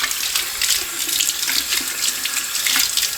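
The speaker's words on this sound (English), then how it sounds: "Water is dumping all over the back of the counter." A bathroom vanity faucet runs steadily, its water splashing onto the back of the counter in a close, continuous hiss with no voices.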